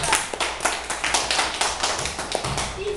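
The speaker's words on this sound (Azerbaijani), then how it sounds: "Mədinəni alqışlayaq" Children in a classroom quiz break into applause for a classmate, a steady patter of many small hands clapping for about three seconds, fairly close and without talk.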